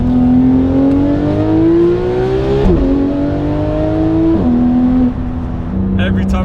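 Porsche GT3 RS engine revving hard through rising gear pulls, loud and close, pitch climbing steadily before dropping at two quick upshifts and then climbing again.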